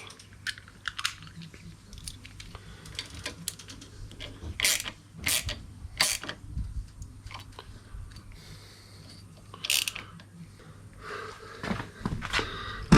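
A wrench or ratchet tightens bolts on SW Motech crash bars being fitted to a BMW R1200GS motorcycle, with a few sharp clicks and creaks spread over a quiet background.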